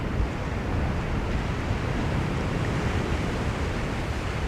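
Ocean surf rolling onto the shore in autumn, a steady broad wash of breaking waves with wind rushing across the microphone, continuous and fairly close, no voices.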